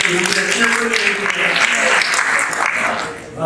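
An audience at a Hindi poetry recital, a kavi sammelan, claps in sustained, dense applause, with a voice speaking over the clapping throughout.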